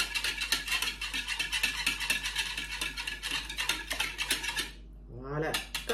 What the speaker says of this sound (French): Alors, on mélange.